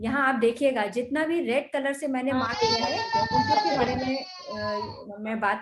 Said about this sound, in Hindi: किसके यहाँ बच्चा रो रहा है?